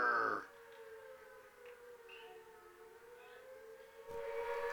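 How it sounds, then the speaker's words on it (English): Air raid siren played as a batter's walk-up music at a high school JV baseball game, a steady wailing tone heard through a PA at moderate distance after a brief louder burst at the start. "his very identifiable air raid siren walk up"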